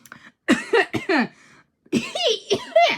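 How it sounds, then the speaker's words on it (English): Several harsh, throaty coughs come in quick clusters, with short gaps between bursts, close to the listener. "sorry, I was choking on my own saliva"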